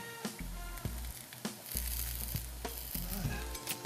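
Cherry and cream cheese stuffed French toast sizzles steadily on a hot grill, with crackling frying noise broken by several soft taps and presses of a spatula, close and moderately loud.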